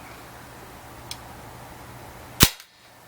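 Umarex Steel Force CO2 blowback BB rifle firing, a single sharp, loud, close crack near the end, preceded by a faint small click in a quiet room.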